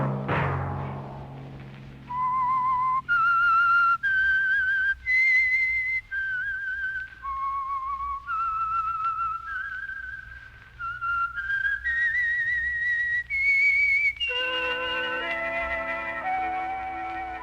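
A person whistles a slow, clear melody of sustained notes stepping up and down, alone and close, after a brief low opening sound, as the theme of a 1950 radio drama.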